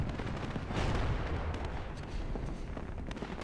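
Lux artillery in WARNO pounds 155mm gun positions, a rumbling barrage of distant firing and impacts blending into a continuous low roar with scattered sharper cracks, at moderate loudness.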